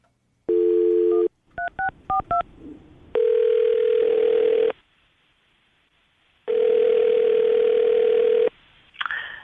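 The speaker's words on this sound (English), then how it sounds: "We're going to call him right now and see if we can get him on the phone" A telephone call is dialed: a steady dial tone, then a quick run of keypad beeps, followed by two long ringback tones separated by silence and a short burst as the line connects.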